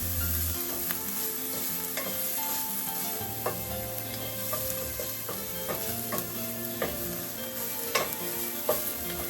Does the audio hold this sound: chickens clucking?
no